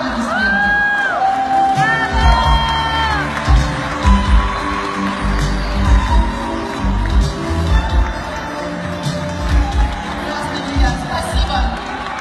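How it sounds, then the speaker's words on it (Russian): At an international festival awards ceremony, the audience cheers and whoops with scattered shouts over a continuous crowd roar, loud and sustained, while voices call out above it. "Ваши аплодисменты."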